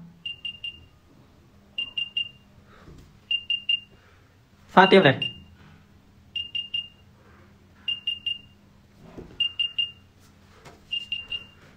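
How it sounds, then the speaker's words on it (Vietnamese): Short bursts of high electronic beeps from AirPods 2-style wireless earbuds playing a find-my alert tone repeat in threes at a steady pace, with a brief spoken phrase breaking in midway. "các bạn sẽ ấn phát âm thanh thì chiếc tai nghe của chúng ta sẽ kêu nhá"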